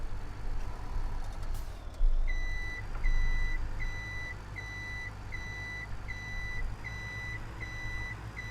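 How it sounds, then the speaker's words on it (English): A steady series of short, evenly spaced high beeps repeats over a low rumbling engine drone, with a couple of brief thumps early on, in the video game Farming Simulator. "Oh, that beeping is painful"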